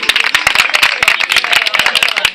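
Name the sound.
audience applauding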